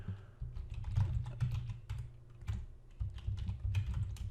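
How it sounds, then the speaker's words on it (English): Fingers type on a computer keyboard at close range, a quiet, uneven patter of soft key clicks running continuously, with no voices. "I can actually go up and actually start typing in"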